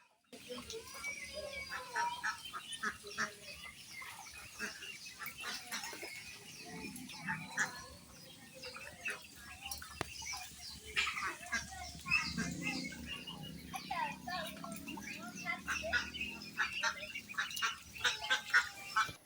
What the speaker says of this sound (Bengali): প্রথমবারের মতো হাঁসের বাচ্চাগুলো পানিতে নামাই দিছি